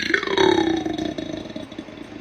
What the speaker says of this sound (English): I had a request for a 1-minute burp video.